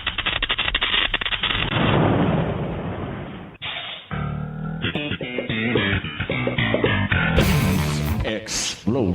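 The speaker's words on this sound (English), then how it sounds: "Explosion." Explosive blasts and rapid bursts like gunfire boom out loud and dense, followed by chopped, stuttering bangs and bursts of noise.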